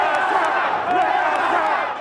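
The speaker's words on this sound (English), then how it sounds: "pitched battles were breaking out between the police and protesters" Crowd of protesters clashing with police during the 2009 G20 protests in London, a sustained loud roar of massed shouting and yelling with no break across the whole stretch.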